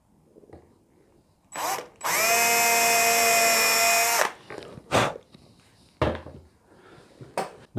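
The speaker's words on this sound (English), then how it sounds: "I'm just going to drill one corner." A power drill whirs loudly and steadily for about two seconds, drilling a hole in wood for a tenor ukulele bridge, bracketed by knocks and clatter from handling the work close by.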